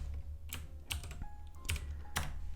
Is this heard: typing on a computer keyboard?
yes